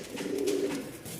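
A pair of white-beaked Musaldom pigeons gives a soft, continuous cooing close by, a low steady murmur with no other sound over it.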